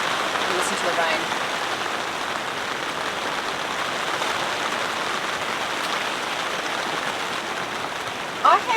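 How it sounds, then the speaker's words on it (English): Heavy rain drumming steadily on a large tent at a car campsite, a dense even patter filling the whole stretch, close and constant, with a faint thump near the end. "I'm not complaining that the rain is back."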